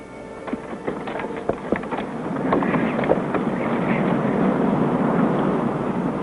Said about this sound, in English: The wind had begun to rise.